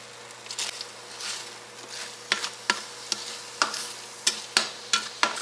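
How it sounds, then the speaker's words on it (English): Eggs with a little green onion scrambled in a pan, giving a steady soft sizzle with a series of sharp scraping and tapping strokes from a utensil, evenly spaced and close, with no talking. "I'm going to start scrambling this up, moving it around, letting those eggs cook."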